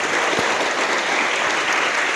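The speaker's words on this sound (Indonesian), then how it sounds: "Tepuk tangan untuk darumuntin hari ini." Loud, dense applause from an audience at a pesantren motivation event in Karawang, a short, steady wash of clapping with no pauses.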